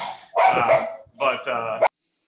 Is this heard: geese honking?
no